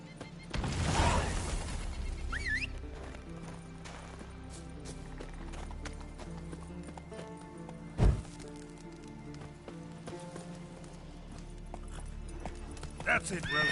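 Roach, the horse in The Witcher 3, gallops with a steady clip-clop of hooves under game ambience and music, with a sharp thump partway through and a brief whinny-like sound.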